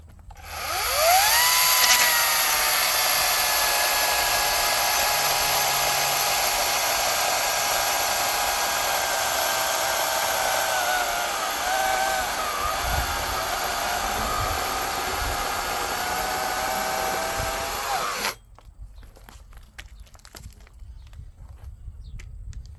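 A small new Echo chainsaw engine runs at a loud, steady high-pitched whine for about eighteen seconds, then cuts off, leaving faint background noise.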